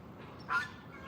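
A pet turkey at an animal sanctuary lets out a single short gobble mid-clip, moderately loud over a faint steady background.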